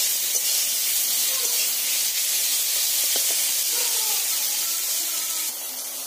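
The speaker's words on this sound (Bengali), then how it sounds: "নেড়ে চেড়ে টমেটো দিয়ে ভালো করে আমি কষে নেব।" Tomatoes sizzle and fry in a pan for a fish curry with bottle gourd, giving a steady, close, continuous hiss with a few faint clinks of stirring.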